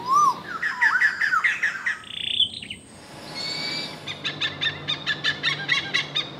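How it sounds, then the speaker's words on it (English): Wild birds call in a forest: squawky and owl-like notes with rising chirps, then a brief lull, then a quick run of repeated bright chirps, loud and clear with no talking. "naturally, birds make bird calls"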